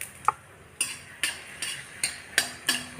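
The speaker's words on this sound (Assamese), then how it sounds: "মই ইয়াত এতিয়া শুকান জলকীয়াকেইটা দি দিছোঁ।" Dry red chillies stirred in a pan of hot mustard oil while tempering dal: a steady series of about seven scraping strokes, close and crisp, each one fading before the next.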